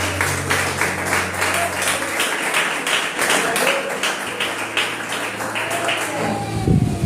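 A church congregation claps together in sustained applause during a praise service, a steady dense patter of many hands filling the room with low hum beneath.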